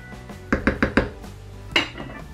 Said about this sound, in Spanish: ya hemos puesto la olla encima del fuego, lo encendemos